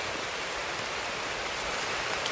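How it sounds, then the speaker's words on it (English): Heavy rain comes down hard outdoors, a dense, steady rushing hiss of falling water that fills the short stretch evenly with no voices. "this rain's starting to come down real hard now"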